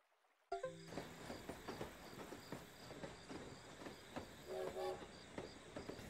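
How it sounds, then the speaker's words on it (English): Train ride scene from the video game Potion Permit: rolling railcar rumble with rhythmic clickety-clack and brief horn tones, starting abruptly after a short silence and carrying on steadily, loud and close, with no talking. "Ooh, a train ride."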